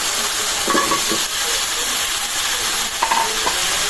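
Potatoes fry in oil in a home kitchen pan, giving a steady, loud broadband sizzle throughout with occasional stirring scrapes and no talking.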